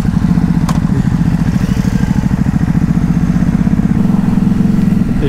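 A remapped Ducati HyperMotard 950 SP engine idles close by, a loud, steady, raspy, deep throb with an even pulsing rhythm and no talk over it.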